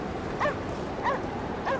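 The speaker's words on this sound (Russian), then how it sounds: "Мы должны идти на лай собачки" A dog in the video game Anabiosis: Sleep of Reason barks three times at a steady, evenly spaced rhythm, each bark short and moderately loud over a rumbling background.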